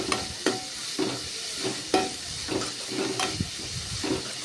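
Vegetables for veg fried rice being stirred and sautéed in a hot pan: a steady close sizzle with repeated scraping stirs roughly every half second, no talking.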